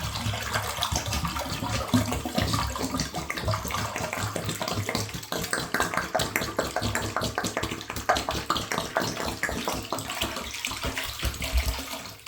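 Bleach glugs and splashes continuously into a clogged drain, a steady close gurgling pour with no voices.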